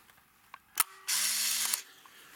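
A Minolta F20R compact 35mm film camera fires its shutter with a sharp click, then its motor winds the film with a brief, steady whirring buzz ending in a small clack.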